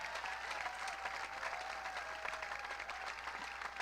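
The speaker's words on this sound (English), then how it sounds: "Give them a big round of applause." Applause from an outdoor plaza crowd at a Memorial Day ruck honoring participants who carried weight for fallen heroes; steady, moderately distant clapping with a faint background hum.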